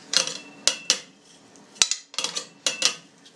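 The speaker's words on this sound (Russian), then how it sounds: "его сразу же разминаю" A utensil mashes cottage cheese in a small saucepan, giving a run of sharp metallic scrapes and clinks in uneven bursts, close and fairly loud, with no talking.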